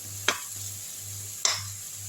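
Potato thokku ingredients sautéing in a pan over a low flame, with two sharp scrapes of a spoon stirring against the pan bottom over a steady low hum and faint sizzle.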